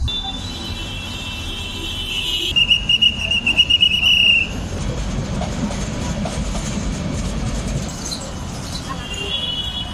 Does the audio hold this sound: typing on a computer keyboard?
no